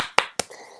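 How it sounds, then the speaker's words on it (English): Two sharp, close hand claps about a fifth of a second apart, followed by a faint short rustle. "clapping as you can see"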